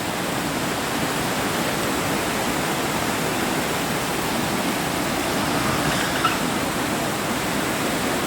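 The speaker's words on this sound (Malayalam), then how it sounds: "ഇതാ വെള്ളത്തിന് ഒഴുകുന്നു" Floodwater rushes past the Pattambi bridge in Kerala, a steady, loud, broadband roar that continues unbroken, with no voices over it.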